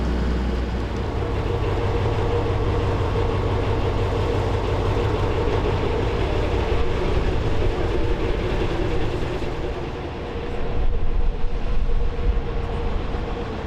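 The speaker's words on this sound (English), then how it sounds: "the loco was moved south again, waiting on the down line just short of the Barrow crossing" A steam locomotive moves slowly along the down line near a level crossing, giving a steady, close rumble with rhythmic chuffing texture that holds throughout and swells slightly toward the end.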